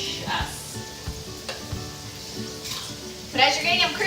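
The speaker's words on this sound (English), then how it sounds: "As you're cooking this, all that delicious flavor of garlic is gonna saute." Thinly sliced garlic sizzling and crackling as it fries in a pan, a steady sputter with stirring noises and a louder burst near the end.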